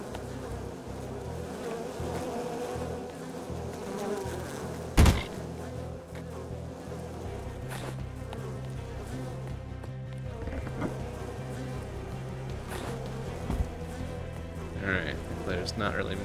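A swarm of bees drones steadily in the video game Unexplored, a continuous low buzzing with a sharp thump partway through and faint talk over it.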